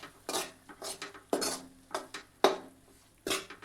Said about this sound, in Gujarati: લોટને આ રીતે હલાવતા રહી અને સારી રીતે એને શેકી લેવાનો છે